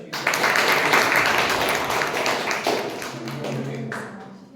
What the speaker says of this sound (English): Can you have a huge round of applause for her?